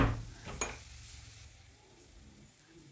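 Grated radish cooks in a pan, a couple of sharp utensil clanks and scrapes at the start, then a faint, low sizzle that fades toward quiet before one last knock.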